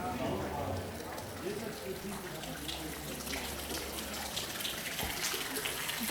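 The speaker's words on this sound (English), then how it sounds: "There's water running." Running water near a small pond in a park-like spot while on a road trip in Germany, a steady close wash of flowing water with people talking faintly over it.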